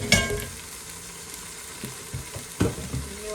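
Cooking oil sizzles in a frying pan during home preparation of karela gosht, a soft steady frying hiss broken by a few close knocks and clatters.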